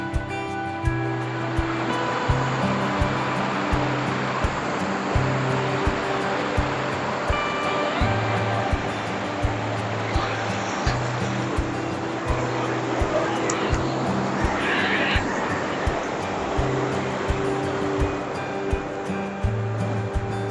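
High water rushes over rocks at a campsite, a steady loud broadband roar that holds for the whole stretch, with rhythmic low thumps underneath and no talk.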